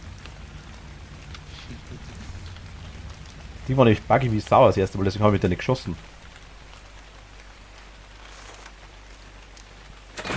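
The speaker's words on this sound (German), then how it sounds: "jetzt regnet's." Rain in the game Ark: Survival Evolved, a steady patter of drops on surfaces throughout, with someone talking over it midway.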